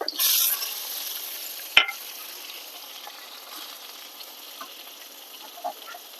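Tomato, ginger paste, cumin paste and turmeric go in with fried pointed gourd (potol), giving a loud sizzling burst at first that settles into a soft, steady frying hiss with one sharp clack from a utensil.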